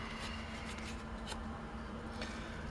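Scissors cutting roughly through a thin grounding sheet for an Ingersol data cassette player, a fast run of close, crisp snipping and rustling strokes at steady volume.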